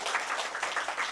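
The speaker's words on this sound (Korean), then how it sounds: "감사의 박수를 꼭 올려드려야 됩니다." Brief burst of audience applause in a church gathering, a dense wash of many hands clapping at moderate loudness with no voices over it.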